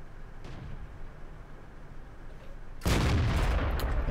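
A tank cannon in World of Tanks fires once, a sudden loud boom that rolls into a sustained rumble after a stretch of quieter engine and battle noise, with no talking.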